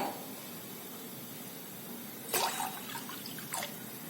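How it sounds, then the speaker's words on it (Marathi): Water from a glass splashes into a pot on a gas stove, two short pouring bursts after a quiet stretch, faint and close. "दीड ते पावणे दोन ग्लास पाणी घालायचं"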